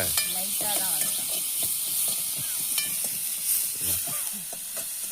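Onions sautéing in a pan for Tamil-style onion rasam, a steady soft sizzle with stirring scrapes running throughout, close and moderately loud.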